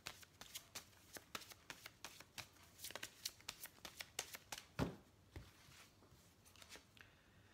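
Oracle cards are shuffled close by in a quiet room, giving a steady run of crisp riffling snaps and soft slaps with a few louder flicks near the end and no talking.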